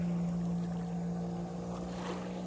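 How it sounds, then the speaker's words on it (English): A runabout boat's engine runs steadily on Lake Champlain, a loud, even drone with a strong low hum throughout and no pauses or voices. "Now Joe's gonna put a little sugar to her."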